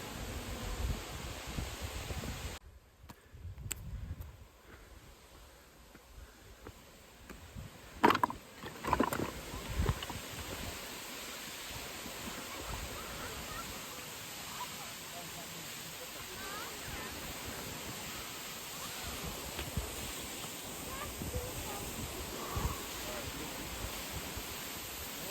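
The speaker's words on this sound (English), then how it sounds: "This is waterfall from the Ilisu." A waterfall at Ilisu in the Azerbaijan mountains gives off a steady, broad wash of rushing water that runs the whole way, with brief handling bumps partway through.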